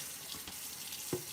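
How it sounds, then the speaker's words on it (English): Water running from a kitchen tap while a bowl is rinsed out at a sink, with a steady, faint rush of flow and a small knock of the bowl near the end. "I think I will wash this bowl out"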